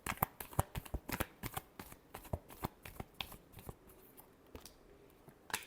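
Tarot cards are shuffled by hand in a quiet room, a soft, rapid run of crisp flicking riffles and taps that continues for several seconds with no talking.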